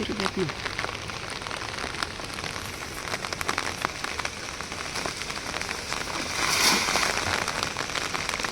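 Steady rain pattering densely on surfaces, swelling briefly louder near the end, with a faint voice now and then.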